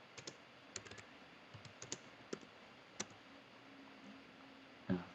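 Light clicking of a computer keyboard as a Linux command is typed, a sparse, uneven run of faint, close keystrokes with short pauses and a slightly louder tap near the end.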